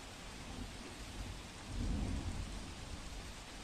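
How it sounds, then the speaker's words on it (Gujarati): Floodwater rushes over a submerged low-level bridge linking Dolvan and Panchol in Tapi district during incessant rain. It makes a steady broadband roar that swells louder midway, with no voices. "તો આપ જુઓ ધસમસતા પાણીના પ્રવાહ કેવી રીતે ગ્રામજનો માટે હાલ તો મુસીબતના પાણી સાબિત થઈ રહ્યા છે"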